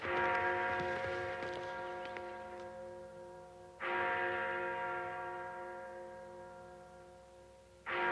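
Deep bells from a sound effects tape ring out with long, slowly fading tones; one strike lingers, a second follows about four seconds later, and another begins at the end.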